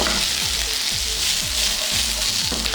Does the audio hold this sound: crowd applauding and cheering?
no